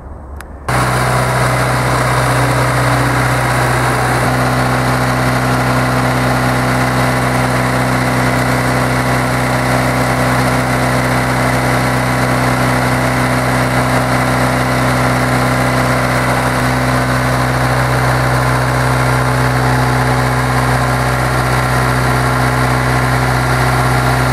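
A John Deere tractor engine catches after a short start and settles into a loud, steady, low-pitched idle with a constant throbbing hum that holds for the rest of the recording.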